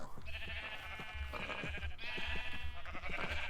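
Sheep bleat repeatedly on a farm in the video game Minecraft, several overlapping bleats sounding fairly close over a low background hum, with no talking.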